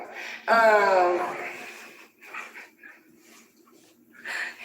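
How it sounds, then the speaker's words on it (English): A dog lets out a drawn-out whimpering whine that breaks into short barks and yips, close by, followed by quieter fainter sounds with some background talk. "Hey, you're upsetting my dog."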